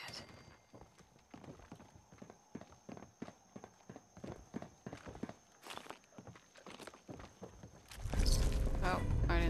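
Footsteps in Fallout 4's Far Harbor expansion: a long run of quick, irregular steps, fairly close and moderately loud, ending in a louder burst of noise.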